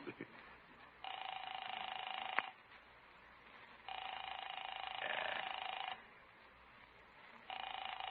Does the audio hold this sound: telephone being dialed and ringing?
yes